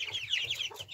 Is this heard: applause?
no